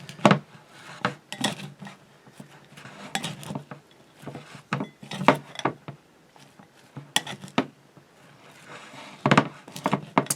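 Grated carrot and half a small onion tossed for an Asian slaw in a bowl: repeated clinks and scrapes of a utensil against the dish in an irregular rhythm, close and clear.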